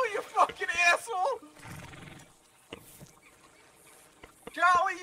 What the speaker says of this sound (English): It's the horse.